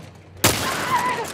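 A single sharp gunshot bursts out in The Last of Us PS5 remake, a sudden loud crack followed by a lingering ringing tail.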